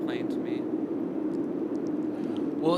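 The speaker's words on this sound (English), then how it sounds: "it sounds more like when you're listening to wind from inside a house." A low-pass filtered wind sound effect, dull and muffled like wind heard from inside an airplane cabin or a house, a steady, even rumble throughout.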